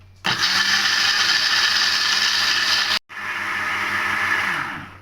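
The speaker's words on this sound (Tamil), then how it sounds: "இது எல்லாத்தையும் நம்ம அரைக்க போகிறோம்" An electric mixer grinder whirs loudly as it blends egg and milk batter for Oreo dorayaki, running steadily, cutting out for a brief instant, then whirring again before winding down.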